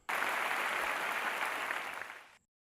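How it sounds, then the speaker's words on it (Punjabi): A church congregation at Calvary Temple breaks into loud, dense applause that holds steady for about two seconds, then fades out quickly with no voices over it. "ਕਹਿਣ ਵਾਲੇ ਤਾਲੀਆਂ ਵਜਾਓ"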